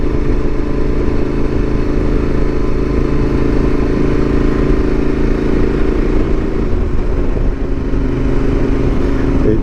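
Yamaha Super Tenere motorcycle engine droning steadily while riding on the road around 3,000 RPM, a loud continuous hum with wind rush and no pauses throughout.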